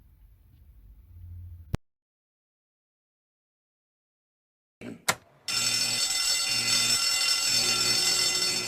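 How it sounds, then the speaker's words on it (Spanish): Fire alarm in a workplace safety induction drill, sounding as a loud, steady, continuous ringing that starts abruptly after a silent gap and holds to the end. "Oye, es la alarma de incendio."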